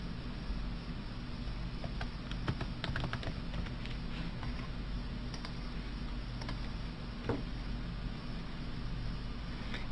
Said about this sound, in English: Simply type into the search box.